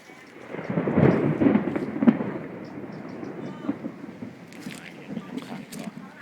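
Rumbling thunder rolls beneath steady rain pattering on a surface, louder early on and then settling into a continuous downpour.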